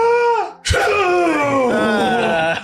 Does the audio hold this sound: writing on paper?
no